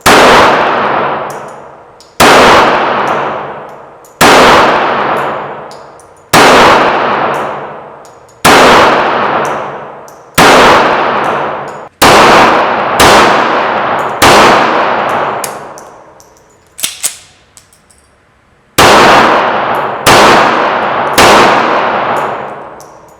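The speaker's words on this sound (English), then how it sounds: "we're going to fire the Security 380 from Ruger" A Ruger Security .380 ACP pistol firing at an outdoor range, about a dozen loud, sharp shots spaced roughly two seconds apart, each with a ringing decay, and a short pause partway through.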